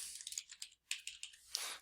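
Quick, faint computer keyboard typing comes in short bursts of clicks, with brief pauses between runs of keystrokes.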